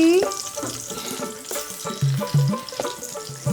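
Four green chilies frying in a pan with the gas turned off, stirred with a few scraping, knocking utensil strokes over a low sizzle; short tonal squeaks and a brief voice-like sound also appear.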